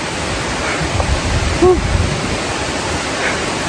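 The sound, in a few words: Leke Leke waterfall in Bali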